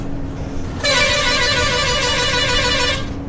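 A bus horn in the game Bus Simulator Indonesia blares in one loud, sustained honk lasting about two seconds, sharp onset and clean stop over low background engine noise, with no voices.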